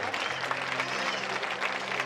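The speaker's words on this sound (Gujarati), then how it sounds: "આપણે આ સ્વાગતને તાળીઓથી વધાવીશું મિત્રો" An audience at a temple function in Vadiyavir, Idar, applauds to welcome the Chief Minister, a dense, even wash of clapping from many hands that holds steady throughout, with faint crowd murmur underneath.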